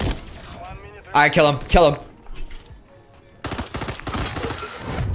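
Gunfire in the online shooter Call of Duty MW3, in its Search and Destroy mode: sharp bursts of shots in short clusters, audible under excited player chatter.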